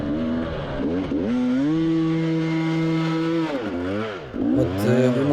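A motorcycle engine revs hard and close without the clutch at a spring enduro cross-country race, its pitch rising, holding steady, then dipping and climbing again in loud, sustained bursts.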